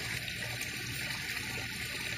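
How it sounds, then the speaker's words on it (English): A 550-gallon-per-hour pump circulates water through a homemade five-gallon-bucket pond filter, giving a steady close trickling and gurgling flow over a constant hum, with no talk. "Got a 550-gallon per hour pump."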